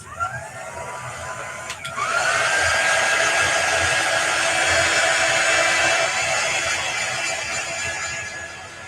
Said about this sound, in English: So I'm just drying this with the quick dry tool.